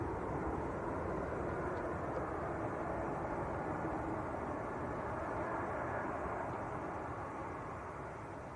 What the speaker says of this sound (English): Here comes another Ryanair.